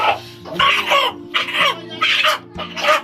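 A rooster clucking at a Dashain festival gathering, repeated loud close bursts in an uneven rhythm with a low hum running beneath.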